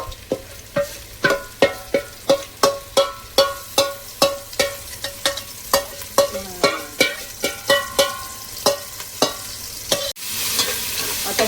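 Chicken and leftover marinade masala being sautéed for chicken tikka biryani: a spatula scrapes and clacks against the pan in a steady rhythm of about twenty strokes over a soft sizzle, close and loud, with no talk.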